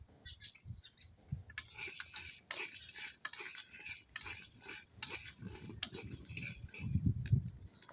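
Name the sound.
dry-roasting whole spices, stirring in a hot pan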